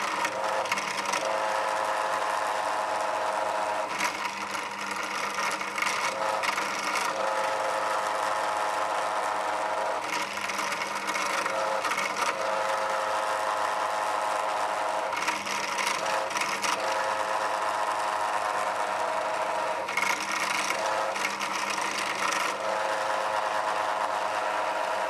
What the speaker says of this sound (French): je vais percer avec un gros forêt pour que la tête de vis puisse passer dans le manche